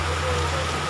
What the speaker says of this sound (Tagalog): Malakas po ang ulan sa amin.